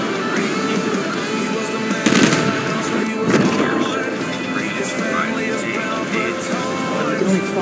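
Naval guns firing from a ship in the War Thunder video game, a couple of sharp booming shots over a constant engine and sea rumble, with players talking over it.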